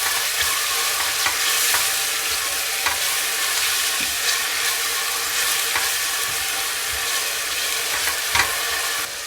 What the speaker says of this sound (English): we're going to saute that for about 2 minutes. Or until the onion starts to look translucent.